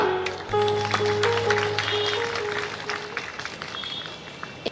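Crowd applause for the mayor at a large prayer gathering in Ratlam, a busy spread of clapping hands that tapers off gradually, with a sustained musical tone sounding alongside.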